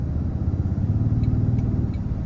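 A steady, low engine rumble with a deep, throaty tone, played through the cabin speakers of a 2023 Toyota Tundra Hybrid Capstone 3.4 twin-turbo, continuous and fairly loud without any talking.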